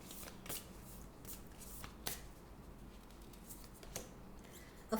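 Moonology Oracle cards are shuffled by hand in a steady run of soft, riffling flutters and taps, close and quiet, with no talking.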